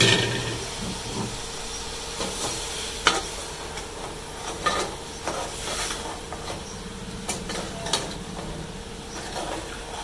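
Chicken keema fries with spices for an achari keema, a low crackling sizzle with repeated spoon scrapes and clicks against the pan, close-up with no voices.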